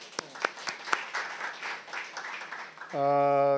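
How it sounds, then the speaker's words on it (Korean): An academic conference audience applauds in a lecture hall, a spread of claps running steadily for about three seconds before a sustained tone cuts in at the end. "박수 좀 부탁합니다"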